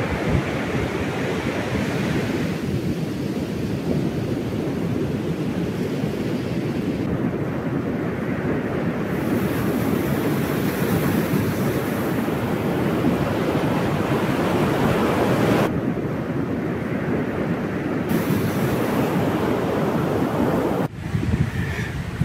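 Sea waves wash steadily onto a beach on a rainy day, a loud continuous roar of surf mixed with wind buffeting the microphone, with no talking.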